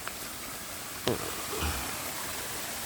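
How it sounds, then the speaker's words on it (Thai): A forest stream on a hiking trail up to a waterfall near Pai, Thailand, rushes steadily as a broad, even wash of water, with a brief splash or knock partway through; no one speaks. "เดี๋ยวเราจะเดินขึ้นไปบนลำธารนี้ก็เพื่อจะไปสู่น้ำตกนะ"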